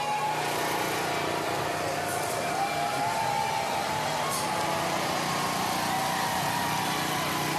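A Mardi Gras parade float rolls past at a 2020 Order of Venus parade in Mobile, its engine running as a steady, moderately loud drone over continuous crowd noise, with faint voices mixed in.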